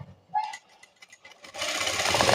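A sewing machine stitches a blouse seam, a short dense whirring burst that sets in after some faint handling clicks and runs steadily, fairly close, with no talk.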